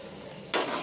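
Masala with coconut and turmeric frying in a pan, starting as a low hum before a loud burst of sizzling that keeps going to the end of the brief moment.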